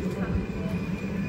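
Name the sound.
train arriving at Bologna Centrale station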